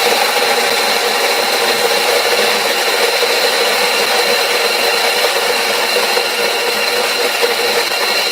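Colombian Manos Juntas coffee beans ground in a grinder, a steady, loud, dense whirring grind that runs unbroken and close throughout.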